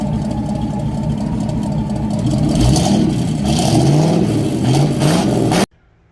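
A 1976 Chevrolet El Camino Classic engine, an abandoned project car, idles roughly and then revs up loudly in repeated rising pulls before cutting off abruptly near the end.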